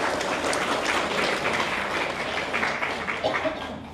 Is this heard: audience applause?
yes